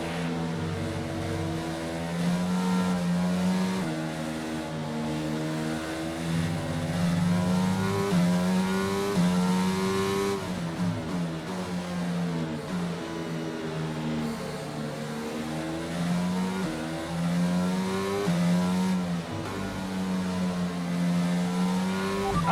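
Race car engine in a racing video game at the Belgium track, a continuous loud drone with rising and falling revs and gear shifts, no talking over it.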